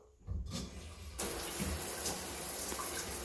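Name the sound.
water flowing from a reinstalled shower head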